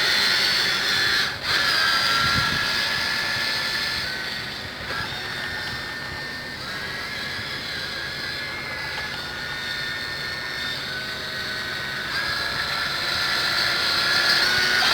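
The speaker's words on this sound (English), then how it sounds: "You can turn by stopping one motor, or you can actually go backwards on one side and forwards on the other." Small electric motors of a Jamara Venezia RC boat run in reverse with a steady high-pitched whine and buzz that holds for the whole stretch, fairly close and alone.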